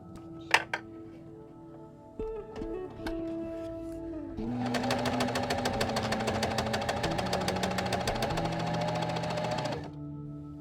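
A sewing machine runs in a fast, steady burst of rapid mechanical stitching for several seconds, preceded by a few clicks and a short whir.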